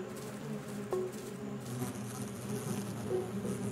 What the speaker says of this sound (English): Those big ones aren't bees. They're hornets.